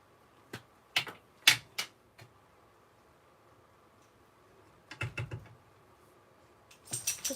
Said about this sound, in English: I'm gonna stamp it in the memento